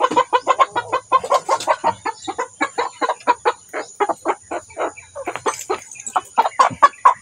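Freshly released chickens near a garden cluck in quick repeated bursts, a rhythmic close series of clucks and short calls that keeps going without pause, with no talking.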